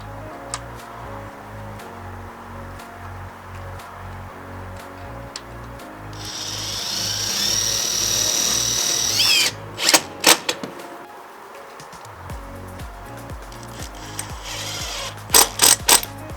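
A circular saw cutting a notch in soffit material with a jig, opening with steady rhythmic tool noise, then a loud whining cut several seconds long, followed by a few sharp clatters and bursts as the piece comes free.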